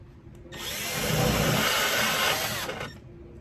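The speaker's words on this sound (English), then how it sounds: "So I got my 1/2-inch drill bit there." A power drill with a 1/2-inch bit bores a pilot hole into a wall, whining loudly and steadily for about two seconds before stopping, close up with no talk.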